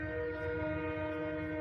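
A train passes close by a home beside a rail line, its horn sounding as a loud, steady, layered tone that holds through the whole moment with a low rumble beneath.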